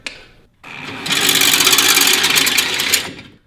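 A dragster engine cranks over with a dense, steady mechanical whir that starts after a short click and silence, then holds loud and even for about two seconds before cutting off.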